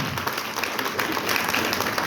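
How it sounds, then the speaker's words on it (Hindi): A business-event audience applauds a presenter, a brief burst of dense, continuous clapping from a crowd heard up close at steady loudness. "जोरदार शानदार तालियां"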